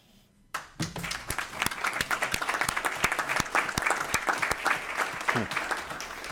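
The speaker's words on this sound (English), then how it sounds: "I think an applause was appropriate there" Audience at a school board meeting breaking into applause, a dense burst of clapping that starts suddenly and holds steady, moderately loud and close, with no talk over it.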